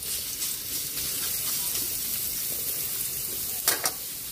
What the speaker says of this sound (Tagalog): Igisa na po tayo para sa ating pork giniling picadillo. Lagyan natin ng mantika. Siyempre, isabay na natin yung garlic.